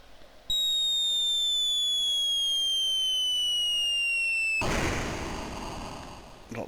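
Artillery shot in the Commodore 64 game Artillery Duel: a falling electronic whistle tone glides down for about four seconds, then ends in a loud hissing noise burst of an explosion that fades away.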